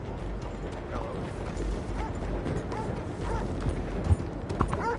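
Horse hooves clip-clop steadily at a walking pace, with clinking tack and soft ambient noise in Red Dead Redemption 2.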